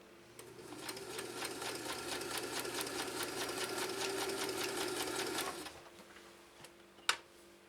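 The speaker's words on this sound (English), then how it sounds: "All right, we're stitching the same straight stitch, same length." A Kenmore sewing machine running a straight stitch at steady speed, a close rhythmic mechanical whir and clatter for about five seconds before it stops, followed by a single sharp click.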